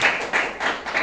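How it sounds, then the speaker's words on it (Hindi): Congregation at a night prayer service clapping for themselves, a steady mid-level patter of many hands with slight swells in rhythm, no talk over it. "सब अपने लिए तालियां बजाएं।"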